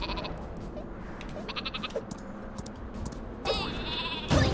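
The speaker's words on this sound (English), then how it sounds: "Oh, it's a super sheep." The super sheep weapon in the game Worms W.M.D. bleats in a few short wavering cries, followed near the end by a louder stretched bleat, over a busy backdrop of game effects.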